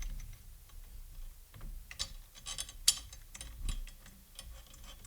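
Tension rods on a floor tom are turned by hand, giving sparse, faint metallic ticks and small clicks in an irregular rhythm, close by and quiet with no talking.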